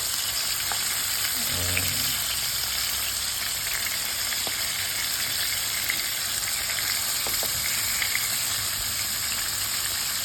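Tofu sizzles steadily in a hot pan for a traditional Sri Lankan tomato curry, a continuous close frying hiss with a few light stirring knocks and scrapes and no voices.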